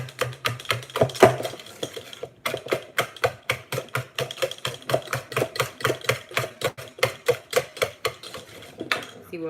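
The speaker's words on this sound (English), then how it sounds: "So after I whisk it for a little bit more," Banana bread batter being whisked by hand in a bowl, a quick steady run of light clinking strokes against the sides that carries on for several seconds with no talk.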